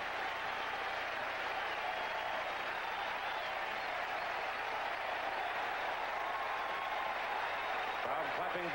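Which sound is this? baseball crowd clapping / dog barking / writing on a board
baseball crowd clapping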